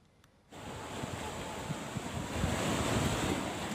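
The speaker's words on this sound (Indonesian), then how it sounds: "Gelombang air laut pasang menerjang kawasan objek wisata Pantai Alam Indah di Kota Tegal" Tidal sea waves pound Pantai Alam Indah beach in Tegal, striking the seawall and floating pier; after a brief near-silence a dense, steady roar of surf surges in and holds, with wind buffeting the microphone.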